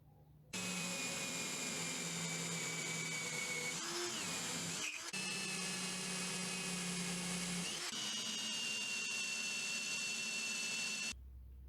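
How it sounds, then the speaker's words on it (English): A power drill with a 16 millimetre bit whines steadily at high pitch for several seconds, pausing briefly a couple of times before the motor stops. "that's all the drilling done over"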